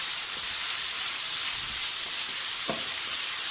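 Chicken and carrots fry in a pan with a steady, close sizzle and hiss throughout, with a brief scrape or stir near the end.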